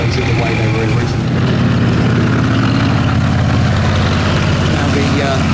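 An M18 Hellcat tank destroyer's Continental air-cooled radial engine drones loud and steady at a steady idle-like pace, a continuous low heavy rumble with people talking over it.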